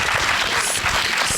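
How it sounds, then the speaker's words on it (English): Audience at a conference panel session breaks into a brief burst of applause, close and fairly loud, a dense wash of clapping. "How about a round of applause for our panel?"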